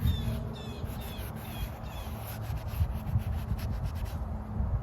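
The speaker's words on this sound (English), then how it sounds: "Really rub this shit in there." A rag rubs restorer into oxidized car window rubber trim with a steady back-and-forth scrubbing sound. It is close and continuous, with a faint squeak now and then.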